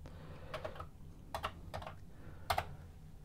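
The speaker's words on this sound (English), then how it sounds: "If I can type." A few scattered keystrokes on a computer keyboard connected to a vintage machine with an Oceanic OC-118 floppy drive, soft separate clicks in small clusters under a low background hum.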